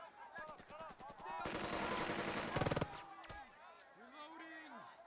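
Rapid squad gunfire in the Burden of Command video game: a fast rattling volley of repeated shots, a denser burst, then scattered single cracks, with voices mixed under the shooting.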